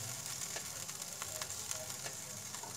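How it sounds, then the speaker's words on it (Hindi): Minced meat (keema) fries with onions in a karahi, giving a soft continuous sizzle with scattered small pops and crackles, close and fairly quiet, with no voices. "कीमा हमारा फ्राई हो रहा है"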